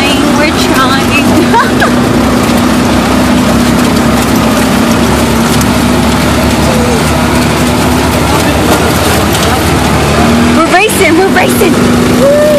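Several small three-wheeled tuk tuk engines drone steadily in a loud, close racing run along a busy street in San Lucas Tolimán, with a continuous engine hum and voices talking over it.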